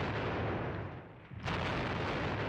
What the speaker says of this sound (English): Or maybe just heavy artillery.